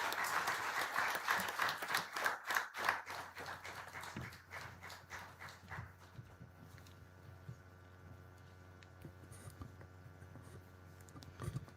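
A summit audience breaks into applause that is dense and fairly loud at first, then thins to scattered claps and fades into quiet room tone.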